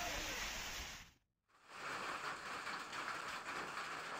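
Heavy rain with hail falling in the Jayankondam area of Tamil Nadu, a loud, steady wash of downpour that drops out briefly for a moment before resuming just as dense.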